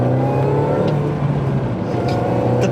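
A 2000s-era R53 MINI Cooper S engine revs steadily while the car is driven, a loud, close droning hum with slight rises in pitch that carries alone throughout.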